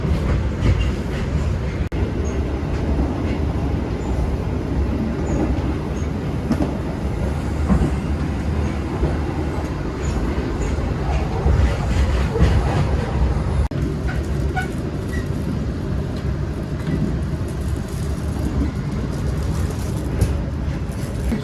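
A KA Gajayana New Generation passenger train on the Malang–Blitar line rumbles steadily along the tracks, with a loud continuous low roar, rattling, shaking carriage noise and faint rhythmic clacking throughout.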